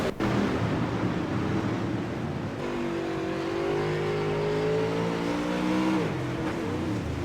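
Dirt super late model race cars accelerate hard on a dirt track, a loud sustained engine roar with rising, sweeping revs that swell mid-clip and then drop away near the end.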